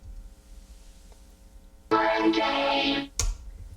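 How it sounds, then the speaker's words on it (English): A small vocoder in a studio session, with a faint rhythmic backdrop and then a burst of bright, buzzy, robotic tone for about a second. A short sharp hit follows. "I've got a little vocoder here."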